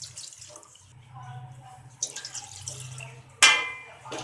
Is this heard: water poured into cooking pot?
yes